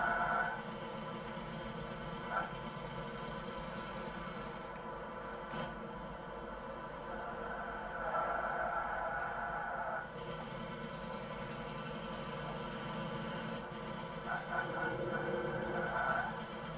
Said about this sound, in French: On entend le moteur qui carbure.